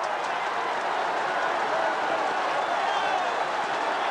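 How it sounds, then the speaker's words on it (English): A large Australian football crowd roars continuously after a goal in a 1979 Essendon vs Hawthorn match, a dense wash of cheering and noise that holds steady throughout. "Listen to the crowd."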